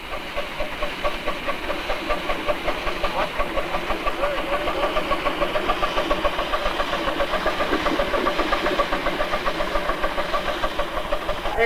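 A 2.5-inch scale narrow gauge live steam locomotive, modeled on a Colorado and Southern engine and running on 7 1/2-inch track, chuffs in a fast, even rhythm under a constant steam hiss, close and steady.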